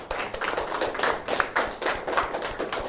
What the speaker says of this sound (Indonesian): Aplaus untuk kita semuanya.